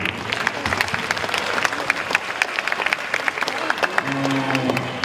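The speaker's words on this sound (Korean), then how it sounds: "우리 내빈 여러분들과 우리 학부모님들 또 우리 저 감독 코치님들께서 우리 선수들에게 큰 박수 한번 부탁드리겠습니다" Sustained applause from a crowd of guests, parents and coaches at a national taekwondo tournament, dense steady clapping filling the hall throughout, with a voice speaking briefly near the end.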